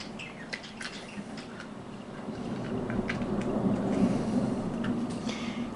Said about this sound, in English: Bloody raining and bloody thunderstorms again.